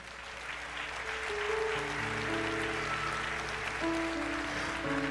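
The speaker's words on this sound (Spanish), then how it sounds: "denle ese aplauso a Jesús." Church congregation applauding during a sermon, a broad even wash of clapping at moderate distance, with sustained keyboard or organ notes layered underneath and no speech.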